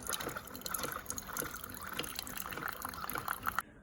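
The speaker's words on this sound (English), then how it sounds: "I had to hand wash myself a mug" Running tap water with a sponge scrubbing a mug by hand at a kitchen sink, close trickling and splashing with squeaky rubbing, ending abruptly.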